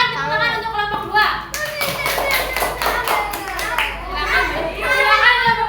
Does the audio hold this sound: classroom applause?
yes